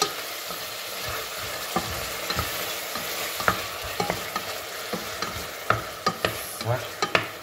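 Onions and ham frying in a pan outdoors in a forest, stirred with a utensil that gives repeated sharp scrapes and clicks over a steady close sizzle, growing busier toward the end.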